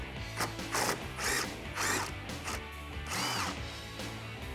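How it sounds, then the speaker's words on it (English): A hand ratchet turns an 8mm socket on an intake bolt in a 2015-2021 Dodge Challenger Hellcat engine bay, with several bursts of rapid clicking between short pauses, close and fairly quiet. "With your 8mm socket, go ahead and get it removed."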